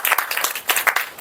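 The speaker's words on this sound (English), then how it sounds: "Can we have one more round of applause for Shalu?" A Toastmasters club audience applauds Shalu at a meeting, a brief burst of indoor hand clapping with uneven, pulsing claps lasting just over a second, fairly close and moderately loud.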